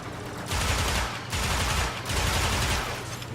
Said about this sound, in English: this may actually be like my favorite dual machine guns to use in the entire game